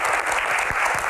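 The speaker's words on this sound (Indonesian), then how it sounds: "Dan teman-teman panelis tepuk tangan juga." Studio panelists applauding at the close of a Q&A session, a steady dense clapping that fills the short moment at close range without any talk.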